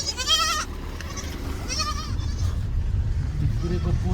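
Goats bleat near Dhikure bridge, several wavering cries rising over outdoor background noise and a low rumble, with a voice speaking in between.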